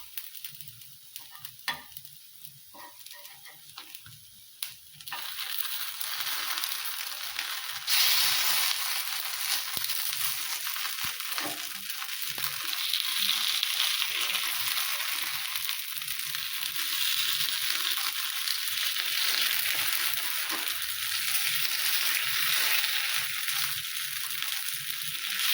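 Masala paddu frying in a covered pan that is then opened and the dumplings turned, a quiet start of clinks and scraping followed by a loud, continuous close sizzle.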